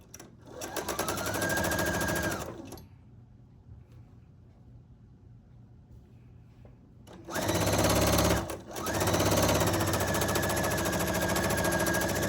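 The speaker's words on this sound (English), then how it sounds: "I'm going to line the top edge and then sew all the way off." A sewing machine stitches quilt fabric pieces in two loud, fast bursts of steady mechanical whirring, separated by a quiet pause of several seconds, with a brief break in the second run.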